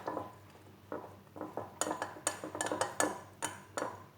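Pancake batter of milk and flour, made without baking soda or baking powder, being stirred in a bowl: close, irregular clinks and scrapes of a utensil against the bowl, quickening into a rapid run of knocks, with no talking.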